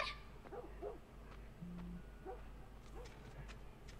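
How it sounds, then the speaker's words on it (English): Dogs bark in The Last of Us video game, several faint, distant yips and barks arriving in short bursts over a low ambient background. "I hear dogs."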